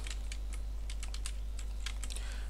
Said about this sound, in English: I can type in some text.